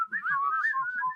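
A person whistles a short wavering tune, rising and falling in pitch for about a second, close and clear with a faint breathy undertone.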